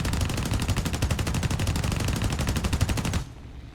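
Rapid automatic gunfire from a combat vehicle's gun in a video game, a steady stream of loud, evenly spaced shots for about three seconds before cutting off abruptly.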